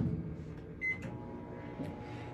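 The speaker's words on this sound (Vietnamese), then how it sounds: "Bây giờ mình sẽ bỏ vô cái máy cù quay của mình đi. Bỏ vô hầm 3 phút" Microwave oven heating peppered braised fish in a home kitchen, a quiet steady hum with a sharp beep and a few soft clicks from the appliance.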